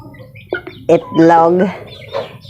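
Chicks at their drinker give a few short, close chirps and a brief louder tonal peep amid quiet background, loud and bursty over two and a half seconds.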